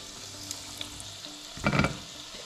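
Thin fish pieces fry quietly in a pan with a low, soft sizzle, then a brief louder burst of crackling about two thirds through.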